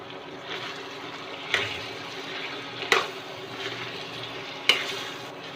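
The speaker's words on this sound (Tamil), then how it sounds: "எண்ணெயிலே நல்லா வதங்கட்டும்" Pepper chicken frying in oil, with a steady sizzle running throughout and three sharp spoon scrapes of stirring against the pan, close and moderately loud, with no talking.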